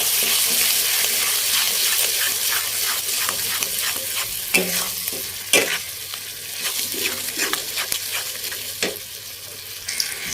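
Ginger garlic paste fries in a pan for an Odia crab curry, a steady close sizzle broken by repeated scraping strokes of a spoon stirring through it.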